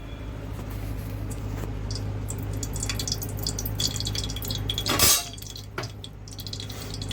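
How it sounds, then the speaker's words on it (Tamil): Ghee poured into a hot pan holding fennel, cloves and cardamom for baby potato rice, giving a steady close sizzle with one brief louder splash partway through, and no talking. "இப்போ வந்து நெய்யை ஊற்றுறேன்."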